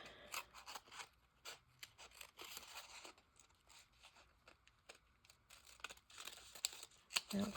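Scissors snip through paper craft pieces in a run of quiet, crisp cuts, with light paper crinkling and rustling between the snips, close and faint.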